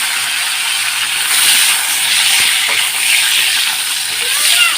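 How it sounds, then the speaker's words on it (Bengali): A pressure cooker steams while pulao cooks in a home kitchen, giving a loud, steady high hiss that rises and falls slightly over several seconds, with faint clinks underneath. "দেখো বন্ধুরা, এখানে সিটি মারছে"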